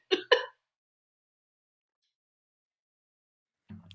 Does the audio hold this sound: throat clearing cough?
yes